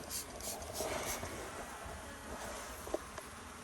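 Steady buzzing hum of honeybees flying around an open hive during a colony inspection, a continuous drone with a couple of faint knocks near the end, no talking.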